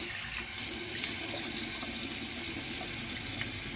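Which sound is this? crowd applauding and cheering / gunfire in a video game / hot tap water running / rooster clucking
hot tap water running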